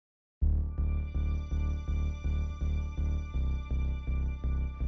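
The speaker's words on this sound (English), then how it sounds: "The sounds you hear playing over my voice now are from a song titled Releaser" Melancholy ambient track, Kid Cudi's "Releaser," with a steady sequence of repeated sustained tones pulsing about twice a second, each swelling then fading, playing alone with no voices.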